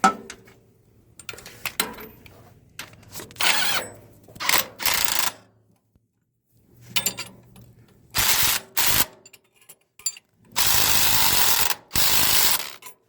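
Ratchet tightening a 16 mm bolt while fitting a parking brake on a Ford NAA Jubilee tractor: loud bursts of rapid clicking repeat in separate runs, with pauses and softer handling noises between them, close up and with no voices.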